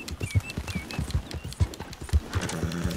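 Horse hooves clip-clopping in Red Dead Redemption 2, a steady run of close, crisp hoofbeats with a brief whinny-like tone near the end.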